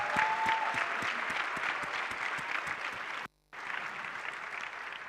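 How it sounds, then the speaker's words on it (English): Applause for graduates at a university autumn graduation ceremony: a large audience claps steadily and briskly, with a brief cut to near silence before the clapping resumes. "a round of applause, please."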